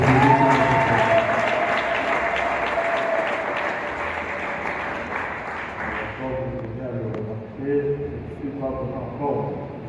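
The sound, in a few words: congregation applauding in church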